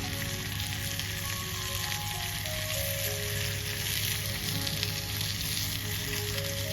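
Oil sizzles steadily in a pan over an open campfire, a continuous close frying crackle with no talking.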